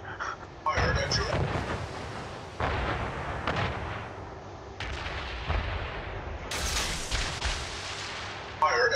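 Naval gunfire in a video game, a series of heavy booming cannon shots and explosions rolling out at intervals, loud and reverberant, with players talking over it.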